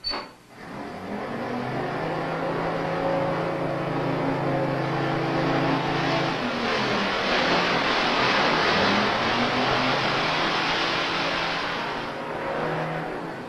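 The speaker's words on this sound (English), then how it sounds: "Sounds like a big truck." A big truck rumbling close by as it pulls into a driveway, a steady loud engine drone lasting over ten seconds with a shift in pitch midway, no voices.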